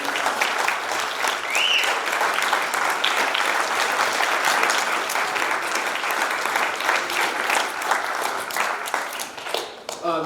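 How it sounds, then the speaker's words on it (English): An audience bursts into sustained applause, dense clapping that stays loud and even for the full stretch before thinning slightly at the very end. "Let's give Mr. Shuda another big round of applause."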